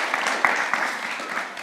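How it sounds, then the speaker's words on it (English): A congregation at a faith gathering claps for a guest named Joshua, a short burst of loose, moderately loud applause that fades quickly. "Can we give a big round of applause for our guest, Joshua?"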